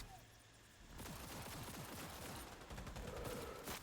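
Gunfire in the video game Cyberpunk 2077, a sustained rattle of rapid shots starting after a quiet opening second and continuing densely to the end, with faint voices mixed in underneath.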